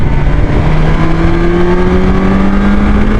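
A BMW S1000 XR motorcycle runs at around 6,500 to 7,000 rpm, a loud, steady engine hum with rising harmonic tones under heavy wind rumble, heard close from the moving bike.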